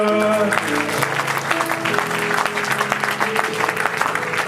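A church congregation claps and cheers in praise of the Lord at a French-language service, sustained applause under organ or keyboard tones and crowd voices.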